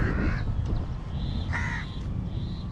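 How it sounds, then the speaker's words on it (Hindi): Crows caw outdoors, several harsh calls in short bursts at moderate distance over a low background rumble, with no one speaking. "कौवे क्यों कर रहे हैं काँव काँव,"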